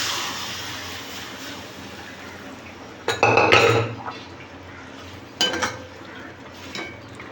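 Mung beans tip into a kadhai holding cumin, mustard seeds and ginger-garlic paste with a quick rattling pour. Scattered metallic scrapes and clinks follow as they are stirred, close and moderately loud.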